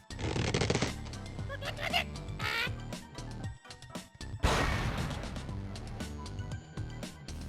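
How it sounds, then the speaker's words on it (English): An explosion in the Angry Birds video game bursts out loud and sharp amid busy game sounds of crashing blocks and music, then rumbles off under the continuing clatter. "That's such an oddly specific explosion."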